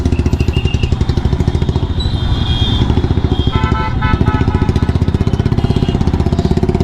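A motorcycle carrying three riders in Agra street traffic: a loud, close, steady pulsing engine drone throughout, with other traffic sounds mixed in.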